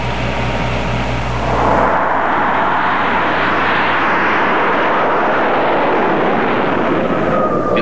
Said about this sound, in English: Within minutes, the interceptors are on their way.